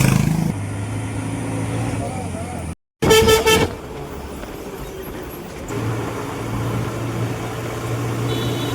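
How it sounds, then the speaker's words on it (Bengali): A bus pulls up and sounds its horn in a short, loud burst of blasts over a steady rumble of traffic and engine noise. "বাস চলে এসছে, বাস।"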